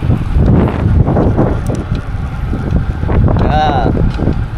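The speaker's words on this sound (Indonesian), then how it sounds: "Anginnya kenceng banget." Strong wind roars across the microphone while cycling on a long road ride, a loud, continuous buffeting rush with a brief squeal near the end.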